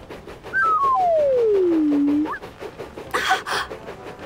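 A single long whistle sliding downward in pitch, then a brief breathy burst, a cartoon train's clumsy attempt at a train whistle.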